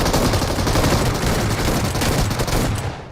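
S12K shotgun fire in the mobile battle royale game BGMI, a dense, loud roar of gunfire that stays steady for about three seconds before fading slightly at the end, with no speech.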